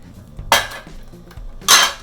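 A metal spring-form pan, used in place of a cake ring for a vegan Milk Bar birthday cake, handled with two sharp metallic clanks about a second apart, close and loud.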